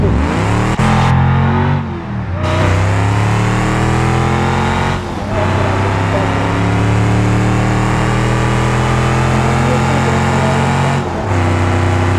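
Simulated car engine revving hard in BeamNG.drive, a more powerful engine variant, with loud sustained roaring that climbs in pitch, drops briefly a few times as gears or throttle change, and stays continuous with no talk over it.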